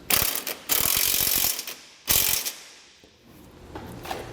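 Rapid ratchet clicking snugs up the bolts on a vehicle base plate. Close, loud bursts of pawl ticks come in several runs with short pauses between them.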